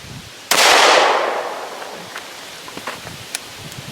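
A single sharp shot from a Glock 9mm pistol cracks close by, followed by a hissing echo that fades over about a second, then faint scattered clicks and ticks.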